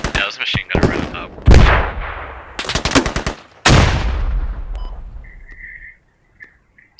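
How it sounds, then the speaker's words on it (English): Machine gun fire in the first-person shooter Squad, with several loud, close bursts of rapid shots in the first four seconds that leave a fading echo, then a quieter stretch with faint high tones. "this machine gunner ran up"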